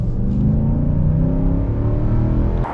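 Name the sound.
pickup truck engine at full acceleration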